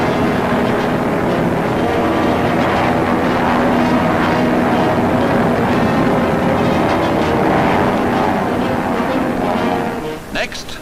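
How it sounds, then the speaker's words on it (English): Steady roar of a C-46 transport plane in flight during a wartime paratrooper drop, a continuous loud engine drone with wind rush filling the whole stretch, easing slightly at the very end. "The C-46 plane enables the men to drop from both sides, 18 at a time"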